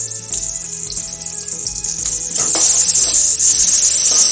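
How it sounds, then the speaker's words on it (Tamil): Onions sautéing in a pan for prawn biryani, a steady close sizzle that grows louder and denser partway through, with occasional stirring scrapes and no talking. "வெங்காயம் நல்லா வணங்கணும்."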